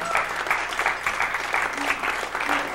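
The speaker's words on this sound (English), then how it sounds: "Let's give him a special round of applause." Dense audience applause fills a jazz concert hall at an anniversary show, steady and fairly loud throughout with bursts of clapping and faint voices mixed in.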